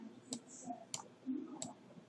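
Computer mouse clicks during work in Cinema 4D, three or four crisp, faint, evenly spaced clicks with quiet gaps and soft handling noise between them.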